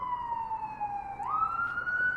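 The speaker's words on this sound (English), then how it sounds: "Damn you sirens to hell." Emergency vehicle siren passing nearby outdoors, a single sustained wailing tone that holds steady and then jumps higher as it goes by, fairly loud and alone.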